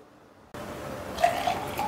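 Buttermilk poured into a mix of lemon juice and rock salt, a sudden liquid splash and trickle that starts after a short silence and keeps running, close and alone.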